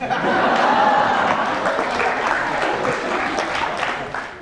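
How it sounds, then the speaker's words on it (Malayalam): A studio audience at a televised courtroom-style interview show claps in a dense, sustained burst of applause with scattered chuckles mixed in, fading slightly toward the end. "നിങ്ങളെന്നെ സപ്പോർട്ട് ചെയ്യാൻ വേണ്ടി ക്ലാപ്പ് ചെയ്യാണോ"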